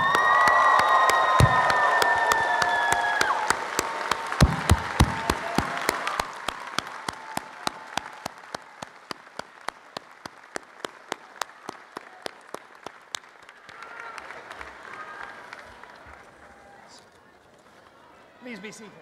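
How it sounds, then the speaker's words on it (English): A large engineering commencement crowd cheers and applauds at length, whoops rising early over dense clapping that steadily thins into scattered claps and murmurs. "giving a hearty cheer to all of your families and friends who are here with you today"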